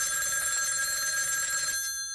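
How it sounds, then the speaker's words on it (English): A show's phone animation plays a telephone ring, a bright, steady electronic trill lasting under two seconds before it cuts off, with no talking. "that was the phone animation with its little glitch"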